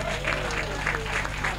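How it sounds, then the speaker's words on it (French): A festival audience applauds itself, with a steady dense patter of many hands clapping in a large crowd, moderately loud and continuous. "Je vous demande de vous applaudir vous-même."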